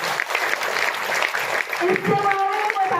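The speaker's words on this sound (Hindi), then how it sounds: "जोरदार ताली होना चाहिए उनके लिए।" An audience claps and cheers continuously at a park gathering, a dense, steady patter of many hands heard close, mixed with crowd noise and a voice speaking over it.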